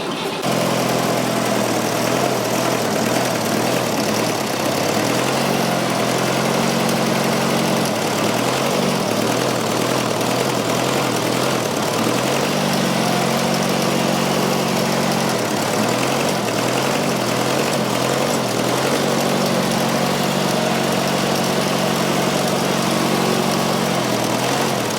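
A Fordson Super Major backhoe tractor's diesel engine idles steadily and loudly nearby, a continuous low chugging with slight periodic swells in tone, with no voices over it.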